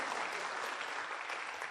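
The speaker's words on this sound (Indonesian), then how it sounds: "Ya, tepuk tangan buat One Vision." An audience at a network marketing seminar applauds a community group, with a brief, dense burst of steady clapping that stays even throughout.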